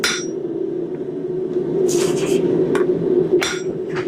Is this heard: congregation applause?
no